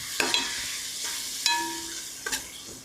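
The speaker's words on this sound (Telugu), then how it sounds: "ఇప్పుడు ఒక 1 నిమిషం పాటు ఫ్రై చేసుకుందాం." Tomato pieces, mint and green chillies fry in a pan, giving a steady close sizzle broken by a few sharp scrapes and clinks of a spoon stirring.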